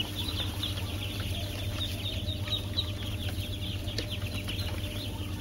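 A tray of about fifty Muscovy ducklings is let out, and a crowd of them keeps up thin, high peeping and chirping close by over a low steady hum. No one speaks.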